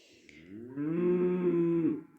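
A cow in a village farmyard lets out a single long, low moo of nearly two seconds, clear and fairly close, with no talking.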